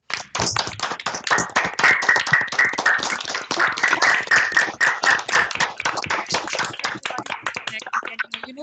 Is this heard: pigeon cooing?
no